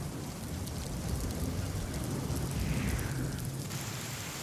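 Rain falls steadily in Raigad district as a soft, even wash of hiss with no distinct drops, fairly faint and unbroken throughout.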